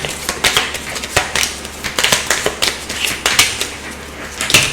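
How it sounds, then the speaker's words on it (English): Tarot-style cards shuffled hard by hand, a rapid run of sharp riffling snaps and taps repeating in quick bursts, close and fairly loud with no talking. "I do kind of shuffle my cards hard, right?"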